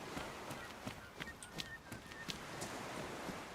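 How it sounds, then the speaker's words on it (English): Faint, distant gull-like calls drift over a quiet ambient bed in a snowy survival game, brief squawks scattered irregularly with no voices. "And you can hear the seagulls."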